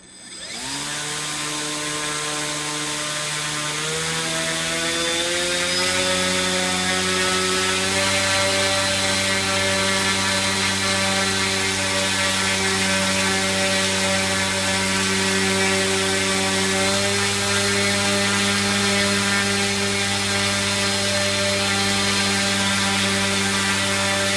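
Brushless motor on a thrust stand spinning a 3DR Solo 10-inch folding propeller, ramping up toward 450 grams of thrust, a steady loud whine whose harmonics climb in pitch over the first several seconds, then hold high and even with no talk.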